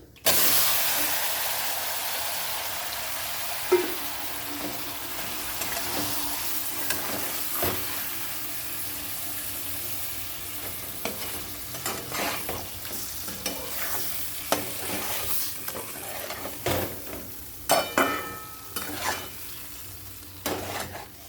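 Fish frying in a pan with red chilli powder as it is stirred, a continuous loud sizzle broken by repeated clanks and scrapes of the spatula against the pan, growing busier toward the end.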